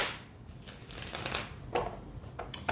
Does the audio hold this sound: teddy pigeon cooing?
no